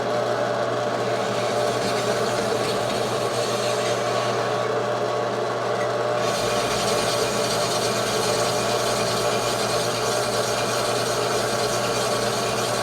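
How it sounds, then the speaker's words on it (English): A Yamaha CT-3 motorcycle engine cylinder is honed with abrasive stones, giving a steady close grinding rasp that runs without pause and grows slightly brighter partway through, with no talking. "It generally takes me about 20 minutes to hone one of these cylinders"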